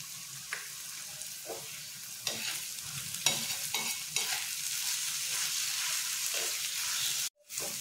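Dry salted mackerel sizzles steadily in a hot pan with turmeric and chili powder while a utensil stirs and scrapes it now and then, with no talking.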